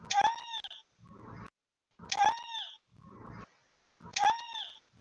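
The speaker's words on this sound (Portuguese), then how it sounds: "dá o gritinho do Michael Jackson" A short high-pitched Michael Jackson scream sound effect plays three times at even intervals from a Scratch program as a cat sprite moonwalks, each followed by a quieter burst of noise.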